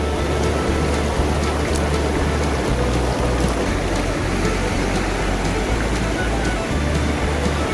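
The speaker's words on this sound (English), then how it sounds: "I've stopped at this really nice little creek that's over here beside me" Continuous wash of a small creek flowing beside a Colorado Trail path, steady and close with a low rumble underneath and no pauses.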